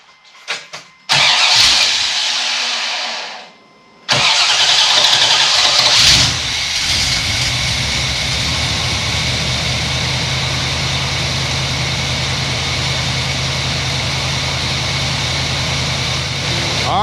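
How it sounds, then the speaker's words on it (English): A C3 Corvette V8 with fuel in the carburetor cranks over briefly, catches after a short pause, then settles into a steady, loud idle that runs on without talk. "Let's try to fire it up, and still got a little gas in the carburetor."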